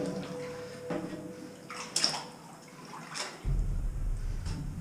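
Sloshing and splashing water nearby inside an abandoned facility, with irregular wet splashes and a running, gurgling wash growing louder toward the end.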